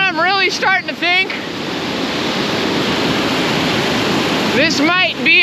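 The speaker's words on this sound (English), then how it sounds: "this might be a waterfall that I've freaking been to before" Waterfall rushing steadily near a hiking trail, a loud continuous wash of falling water filling the scene, with birds chirping over it at the start and end.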